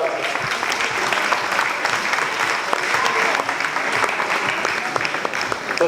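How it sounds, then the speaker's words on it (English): An audience at Startup Weekend Varna 2013 applauds a jury member introduced to speak, continuous loud clapping lasting several seconds with some faint crowd voices underneath. "Applause for her."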